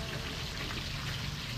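Steady rain falls, a dense, even patter of drops on a surface that holds unbroken for the whole moment with no voices over it.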